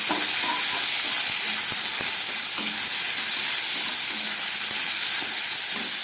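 Bitter gourd and potato pieces fry in hot oil with five-spice seeds, giving a steady, loud sizzle and hiss throughout, with faint stirring scrapes and no voices.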